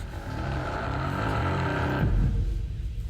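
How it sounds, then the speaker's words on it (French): A drill whirs inside a video game: a steady, droning mechanical whine holds for about two seconds, then cuts off into a couple of low thuds. "Attends, c'est ce bruit de perceuse."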